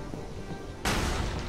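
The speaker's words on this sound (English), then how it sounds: "That's a cannon, and boom." A demon-possessed cannon fires in the video game Bloodstained: Ritual of the Night, a single sudden loud boom that cuts in midway over quiet background ambience and rings out briefly.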